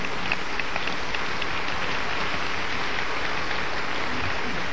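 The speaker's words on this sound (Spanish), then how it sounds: "le damos un aplauso a la Biblia" An audience at a sermon on the Flood claps in a dense, even roar of applause that holds at a constant level throughout.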